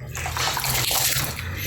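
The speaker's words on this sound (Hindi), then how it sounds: "ये देखें नाज़रीन, हमारा पानी उबल रहा है।" Water boils in a pot ready for rice, a dense bubbling and hissing rush that is close and fairly loud throughout the short moment.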